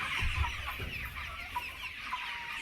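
Improved desi village chickens cluck softly in a curtained poultry shed, several birds murmuring at once with occasional sharper calls, fairly quiet and steady.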